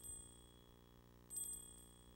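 A meditation bell, heard faintly amid a hushed broadcast setting, rings out once with a bright struck tone that hangs and slowly decays, with no speech over it.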